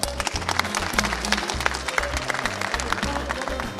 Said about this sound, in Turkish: Rabia Hanım için bir alkış alalım.